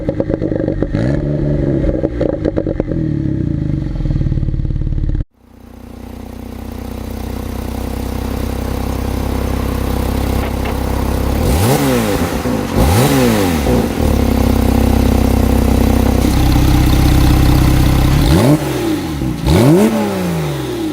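2017 Porsche 911 Carrera 4S Cabriolet engine revving and pulling hard, with a sudden cut to quiet, then a steady drive punctuated by several rising and falling rev sweeps and exhaust burble, close and loud.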